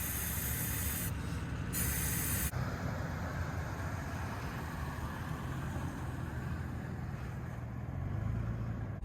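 Air hisses steadily out of a Toyota 4Runner tire being aired down for beach driving, a close, continuous broadband rush that runs throughout with a brief gap in the top end.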